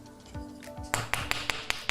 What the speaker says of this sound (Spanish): martillo de madera para nivelar el alambre